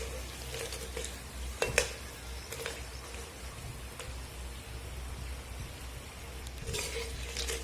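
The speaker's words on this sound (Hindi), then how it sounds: "और इसे मीडियम लो हीट पे छान लेंगे। तब तक छानेंगे जब तक ये सुनहरा ब्राउन कलर ना हो जाए।" Papdi dough pieces frying in oil over medium-low heat give a steady soft sizzle and bubbling, with a few brief clinks and stirs of a utensil, close and fairly quiet, no talking.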